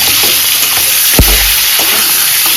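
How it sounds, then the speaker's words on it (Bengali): Eggs frying in a pan of oil for a Bengali-style egg curry, giving a steady close sizzle with a brief louder burst of spattering partway through, and no voices. "ডিম আমি ভালো করে ভেজে নেব।"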